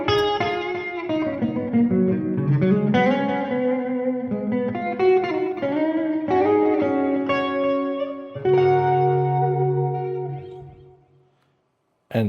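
Stratocaster electric guitar on the middle mini humbucker, strumming chords and picking notes with light distortion and reverb, steady and close before a sustained final chord fades out.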